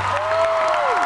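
Applause from the crowd at a rock concert on a 2011 tour, a dense, steady wash of clapping filling the room, with a sustained tonal whine running beneath it.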